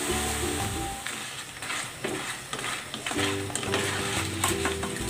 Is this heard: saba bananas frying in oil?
yes